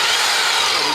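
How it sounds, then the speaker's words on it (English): A power drill fitted with a bit on a new drilling rig whirs continuously at high speed, loud and steady with a dense, hissing tone and no voices over it. "I'm going to drill her this way just for the convenience of drilling it that way"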